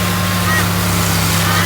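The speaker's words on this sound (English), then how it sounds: "So here we are chewing through the major part of this stump and the ground underneath it." An RG50 stump grinder with an oil-cooled Deutz engine chews through a stump and the ground beneath it, a loud, steady engine drone with a constant low hum and broadband grinding noise, close up.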